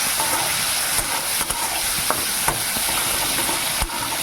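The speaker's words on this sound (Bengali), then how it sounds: "মাংসটাকে একটু ভেজে নিচ্ছি" Small chopped pieces of chicken meat fry in a pan with a steady hiss, while occasional stirring scrapes and taps sound close by.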